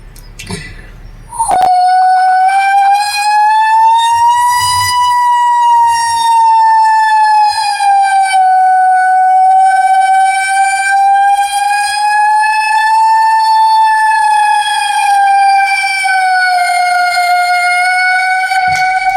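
A loud fire engine siren wails, rising and falling steadily for most of the clip after a brief quiet start, rich in harmonics and sounding close, at a shop fire.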